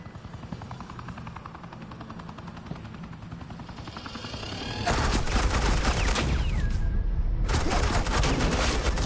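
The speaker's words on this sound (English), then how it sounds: "suppressing fire." Sustained automatic suppressing gunfire in the Batman Telltale series, a loud, continuous rattle of shots erupting over a helicopter's drone and lasting several seconds.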